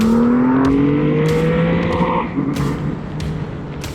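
A Triumph Rocket 3R 2500cc motorcycle accelerating hard, its loud, steady engine note climbing in pitch across several seconds, with wind rush and a brief dip partway through.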